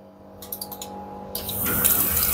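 Water starts running inside a Siemens clothes dryer after a repair, a few light clicks and splashes first, then a steady close rush of flowing water that builds and continues to the end.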